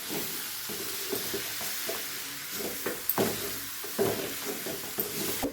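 Masala fries in oil in a pan as a soft, steady sizzle, broken by a series of stirring scrapes and taps at irregular intervals, with no voices.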